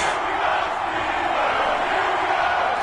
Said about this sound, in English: This crowd is ready as their guys get set to match up between the Tennessee Titans and the Pittsburgh Steelers.